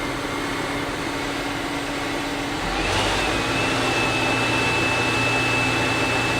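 A cleaned fan runs with balanced blades, giving a loud, steady broadband whoosh of moving air with a low droning hum. The whoosh grows slightly louder partway through and then holds even, with no voices.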